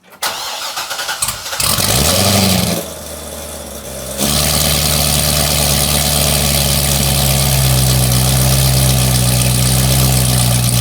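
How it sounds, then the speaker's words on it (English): Chevrolet Corvette ZR1 cold start: starter cranking, then the engine catches with a loud rising roar, settles briefly, and revs up into a steady, deep, close idle that drones on to the end. "All right, let's do one last cold start."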